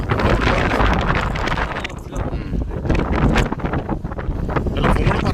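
Strong wind gusts buffet the microphone on top of a tall tower, a loud continuous roaring rumble with surging bursts and no voices.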